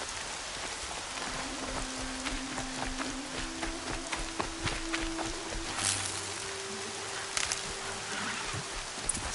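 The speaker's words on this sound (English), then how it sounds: "More rain." Steady rain patters on surfaces in a video game, a dense continuous wash with a few faint tones and thumps mixed in.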